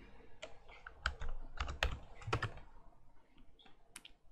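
Someone types a short command into the Windows Run dialog on a computer keyboard: a quick, close burst of irregular key clicks with small pauses between strokes.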